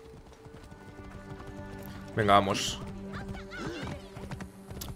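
Hooves clop from a horse galloping in the game Assassin's Creed Origins, steady under a man's speech, with a brief louder burst midway.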